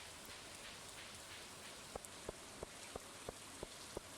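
Steady rain falling in the farming video game Stardew Valley, a soft continuous patter with a run of evenly spaced light ticks in the second half, alone with no voices.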